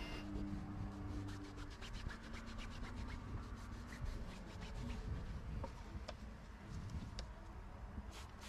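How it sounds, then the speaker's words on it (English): A microfiber towel damp with cleaner is rubbed over the stained cloth headliner of a neglected Jeep, making a soft, close scratchy scrubbing that repeats in short strokes over a low steady hum. "we can massage a large percentage of these marks right out of the"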